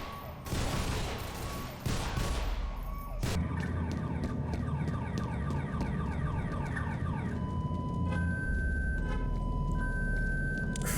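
Car alarm in the Half-Life 2 mod Underhell, a loud cycling electronic siren with rapid repeating pulses and shifting pitch patterns, following bursts of gunfire at the start, continuing without speech.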